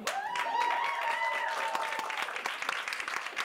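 A comedy club audience claps and cheers in a dense burst of applause, with a comedian's voice rising above it at first before the clapping thins out.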